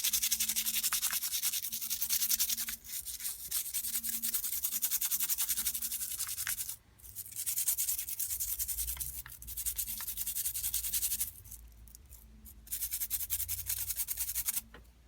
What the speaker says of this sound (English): just grab one of your items and then just start scrubbing away with the toothbrush